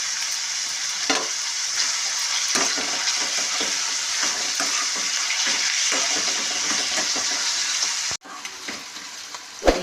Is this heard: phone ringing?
no